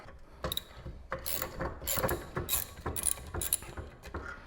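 A ratchet clicks in short bursts as bolts are removed from the rear brake of an Acura TL, with quick metallic ratcheting strokes close by.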